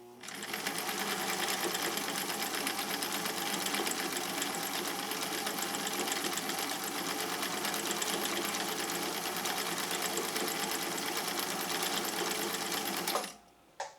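A sewing machine stitches continuously at a fast, even rate, loud and close, for about thirteen seconds before it stops abruptly, with one brief knock just after.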